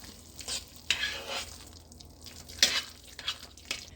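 Half a cup of mayonnaise is stirred into a caramelized onion dip, with wet, sticky scraping strokes coming in irregular bursts close by.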